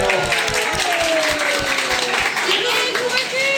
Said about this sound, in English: Everybody give Corky a big round of applause.